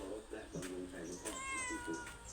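A cat meows several times, clear and near, with a person talking over it at a rural home in the morning.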